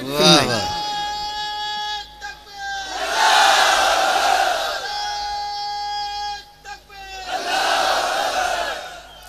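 At an Urs-e-Qadri religious gathering, a lead voice calls out slogans and a large crowd answers with loud, roaring chants in repeated call-and-response waves.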